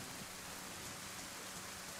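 Steady rainfall in the video game DayZ, a constant soft hiss of drops pattering on surfaces, even and unbroken throughout.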